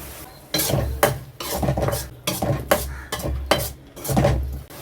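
Potato pieces and masala paste stirred in a frying pan, with loud, close scraping strokes repeating in a steady rhythm over a soft sizzle and no talking.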